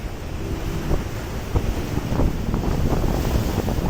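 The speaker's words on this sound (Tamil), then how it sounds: "அலை எப்படி அடிக்குதுல்ல, சூப்பராக இருக்கும் பார்க்குறதுக்கு." Sea waves wash and break around a pier bridge out in the sea, with heavy wind buffeting the microphone in a constant loud roar and occasional sharper splashes.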